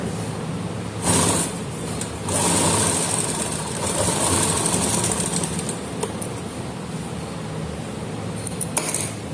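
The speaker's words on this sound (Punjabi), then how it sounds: "ਇੱਥੋਂ ਸਲਾਈ ਸ਼ੁਰੂ ਕਰਨੀ ਹੈ ਤੇ ਇੱਥੇ ਆ ਕੇ ਐਂਡ ਕਰਨਾ ਸਲਾਈ ਦਾ" A sewing machine stitches a kameez neck facing with a continuous close mechanical whirr, swelling in short runs, with a few small clicks and no talk.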